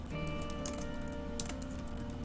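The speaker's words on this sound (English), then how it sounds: "So I'm typing into my system" Steady clacking of keys on a keyboard, a quick uneven patter throughout, close by over a faint hum, with no voices.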